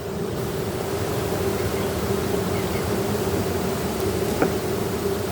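Honey bees humming steadily inside stacked ten-frame hive boxes with nucs, a dense continuous drone close by with no voices over it.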